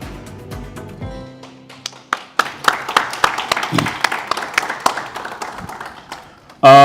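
A conference audience at an accountancy convention plenary claps in a ragged, sustained round, sharp individual claps thickening into steady applause that fades before a loud burst at the very end.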